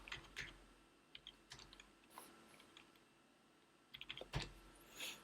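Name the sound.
typing on a computer keyboard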